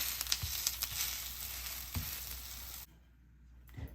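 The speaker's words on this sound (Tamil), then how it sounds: "இப்போ நான் திருப்பி போட போகிறேன்" An adai, a thick lentil pancake, sizzles steadily on a hot pan for nearly three seconds, with a few soft scraping bumps. Then the sizzle cuts out abruptly into near silence, and a quiet clatter follows.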